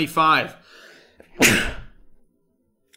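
A single sharp sneeze bursts out close and loud right after a brief bit of speech, during a live sports card break with football hobby boxes being opened.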